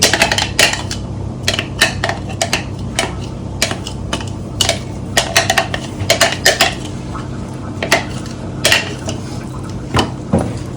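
A spoon repeatedly clinks and scrapes against a bowl while chammanthi, a coarse Kerala chutney made in the Kollam style, is mixed by hand, giving an irregular run of sharp close metallic taps over about ten seconds with no talking.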